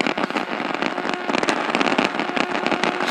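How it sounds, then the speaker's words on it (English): Lightning static crackles dense and loud through a radio receiver's speaker on an open wire line, a continuous burst of irregular pops and snaps over a hissing background. "So most of the noise you hear in the speaker is lightning right now."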